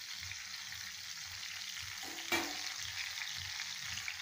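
Turmeric and chili paste fry quietly in a pan for a cauliflower paneer curry. A low, even sizzle runs throughout, with one sharp scrape of a spoon about midway and faint rhythmic thumps underneath.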